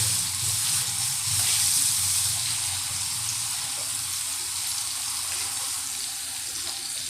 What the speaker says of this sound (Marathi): अशा पद्धतीने तेल टाकायचं किंवा कारलं तळून घ्यायचं जेवणाला.